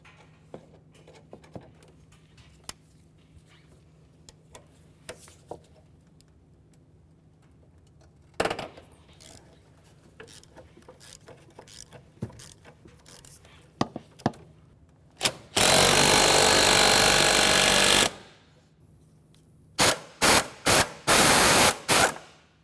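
Removing a 12mm nut from the exhaust heat shield of a 2005-2010 Chevrolet Cobalt: sparse metallic clicks and taps, then a loud two-second power-tool burst, followed later by several short rapid bursts.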